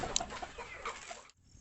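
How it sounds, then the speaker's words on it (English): Native chickens on a farm cluck close by in a brief busy stretch of short calls over outdoor background noise, ending abruptly. "Ito ang aming native chicken."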